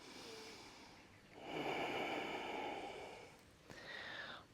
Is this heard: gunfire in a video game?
no